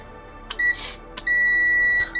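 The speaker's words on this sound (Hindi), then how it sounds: "ग्राउंड में हमारा बीप तो कर रहा है लेकिन यहाँ जो कॉमन पॉइंट था अपना वहाँ पास बीप नहीं कर रहा है" A multimeter on continuity test against a laptop motherboard gives a couple of short beeps, then one sustained tone lasting most of a second, close and clear with no voice.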